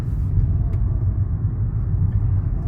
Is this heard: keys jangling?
no